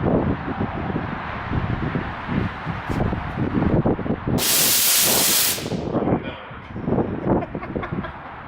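A nitrous oxide bottle sprays through a 45-degree AN fitting, one bright hissing burst lasting about a second and a half, mid-clip, over a loud, rumbling idling engine.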